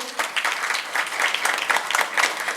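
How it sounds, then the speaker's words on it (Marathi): An audience claps together at an award ceremony for a dairy startup: dense, steady applause from a crowd nearby that carries on without a break. "त्यांच्या ब्रीदवाक्यासाठी एकदा टाळ्या झाल्या पाहिजेत"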